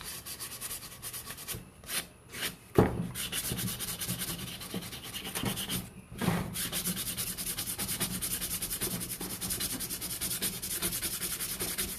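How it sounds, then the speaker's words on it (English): Hand sanding of an epoxy glitter cup with a thick resin coat, a steady close scratchy rubbing that runs continuously with two brief pauses, no talking. "So before you sand using the hanging method"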